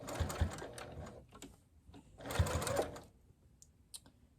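A sewing machine stitches the seam of a microwaveable bowl cozy, with the presser foot holding the nested seam in place. It runs in two steady bursts of rapid stitching separated by a pause, then fades to faint light clicks.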